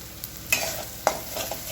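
Masala with crushed peanuts, a little cooked dal and coriander being sautéed for drumstick masala, a faint sizzle broken by a few sharp spoon scrapes against the pan, close with no voices.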